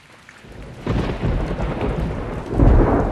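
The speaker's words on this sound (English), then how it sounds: "that controls the lightning blast from God" Loud thunder blast from a lightning strike in the video game Burden of Fate, a deep rumbling crack that swells abruptly and surges again near the end, heard alone without speech.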